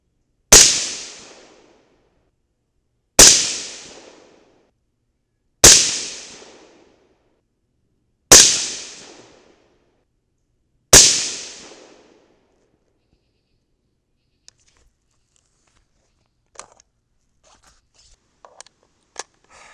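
Five loud rifle shots from a 5.56 loaded with 55gr Sierra BlitzKing bullets, fired at an even pace of roughly two and a half seconds, each a sharp crack with a short decaying echo, followed by faint handling clicks.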